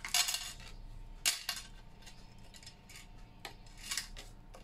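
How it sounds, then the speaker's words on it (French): Scissors snip off a small point of folded paper, a few short crisp clicks and cuts spread irregularly over a few seconds, quiet and close against a hushed background. "mes ciseaux, pour enlever la petite pointe qui dépasse"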